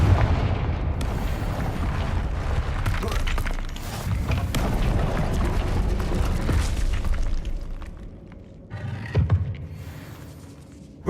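In the Hogwarts Legacy video game, a Confringo fire spell bursts with a booming, crackling blast amid dense game effects and rumble, with a brief later impact.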